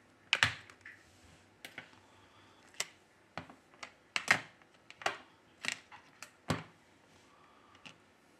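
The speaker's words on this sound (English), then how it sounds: "We remove the back cover." The back cover of a Huawei P Smart 2020 phone being pried off, heard as a series of sharp, close plastic clicks and snaps spaced irregularly, with quiet gaps between them.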